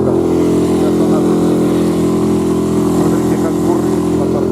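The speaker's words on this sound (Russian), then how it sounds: "смотрите, как бурлит, мотор не идет" A boat outboard motor drones loudly and steadily while churning water and struggling to push ahead, with a voice speaking over the constant engine noise.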